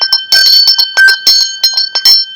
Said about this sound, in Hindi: ये जो घंटा बजता है